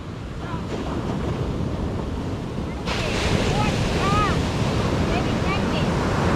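Big ocean surf rolls onto the beach at New Smyrna Beach, a continuous broad wash of breaking waves heavily buffeted by wind noise, growing louder about halfway through.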